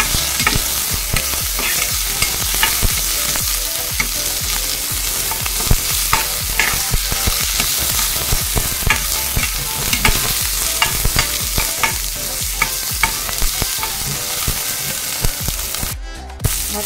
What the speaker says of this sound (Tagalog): brown na ang ating bawang at isunod na natin itong sibuyas. Siyempre, haluin ulit.